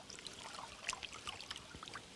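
Water trickles and splashes as hands stir stream substrate into a sampling net, a soft, close, bubbly churning with small drips throughout.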